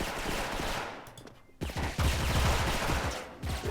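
Bursts of rapid gunfire from the online shooter game Special Force crackle in dense volleys, a brief lull in the middle, then louder sustained firing close up.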